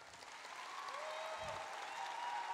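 A hall audience at a hairdressing showcase claps in sustained, dense applause that swells slightly, steady and moderately distant.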